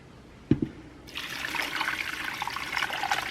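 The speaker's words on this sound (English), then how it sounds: "And then now we're just going to completely cover it with water." Hot tap water pours into a pot of turkey bones and carrots for broth. A brief clunk comes first, then a steady, fairly loud rush of running water.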